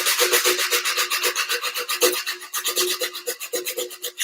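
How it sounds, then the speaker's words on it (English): Sanding a bamboo bicycle frame tube by hand to close a mitre gap: a steady, close, rapid back-and-forth rasping scrub with even strokes, heard alone with no talking. "what I need to do is sand that a bit more until the gap closes"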